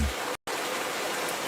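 Rain falls as a steady, even hiss of many drops, with a brief cut to silence partway through.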